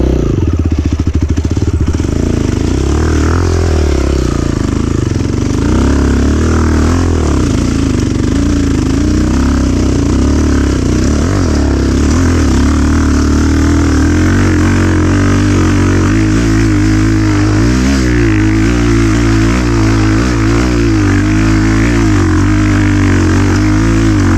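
A Chinese-brand motorcycle runs in second gear on its current tyres. A loud, close engine drone continues throughout, with a rough, uneven rumble and small shifts in pitch.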